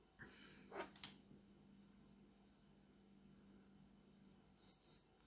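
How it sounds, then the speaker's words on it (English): A vintage 1986 Casio W35 digital watch with a Marlin 248 module sounds its hourly chime, a quick pair of high, thin electronic beeps near the end after a few faint handling noises, heard close in a quiet room. "Let's hear that beep. We're just coming up to the hour now."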